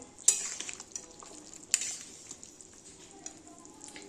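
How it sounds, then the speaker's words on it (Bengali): Thin fish curry simmering in a pot on a home kitchen stove, a faint steady bubbling hiss broken by three sharp scrapes of a stirring spoon against the pot, with no talking. "মাছের ঝোল হয়ে এলো, এই যে মাছের ঝোলটা রান্না করছি।"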